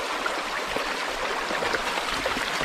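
A river flows past a riverside campsite in India as a loud, constant rush and gurgle of moving water close at hand, with no talking.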